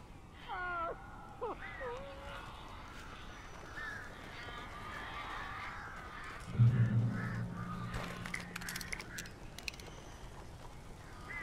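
Strange birds in the Alan Wake video game give harsh, crow-like caws over low ambient game sound, with a louder swell of noise partway through.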